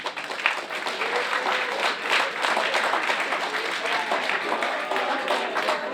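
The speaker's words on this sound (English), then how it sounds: "You can applaud now if you want." An audience at an education session on doping, cannabis and concussions breaks into moderate applause that carries steadily for several seconds, with a voice and scattered cheering mixed in.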